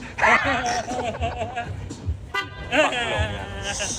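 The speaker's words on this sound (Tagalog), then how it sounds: "may horn battle dito kasama si Marco" Car horns toot during a horn battle at an overland vehicle showcase at a motor show, with several short honks mixed into busy crowd chatter and nearby talking.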